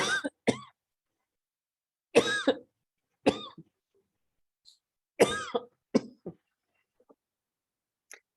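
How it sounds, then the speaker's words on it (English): Several short, sharp coughs come in separated bursts, some doubled, close to the microphone with quiet gaps between them and no talking. "Are you coughing?"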